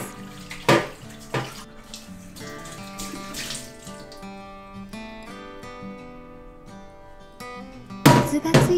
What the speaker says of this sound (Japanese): スポンジで残った汚れを落として洗い流します。